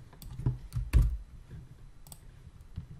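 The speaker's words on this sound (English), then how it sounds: "you can start typing" Light computer keyboard typing, a few scattered key clicks with one firmer tap near the middle, close and quiet, with no voices.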